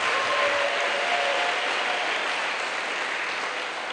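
A church congregation applauds in a dense, sustained clatter of many clapping hands that holds steady throughout.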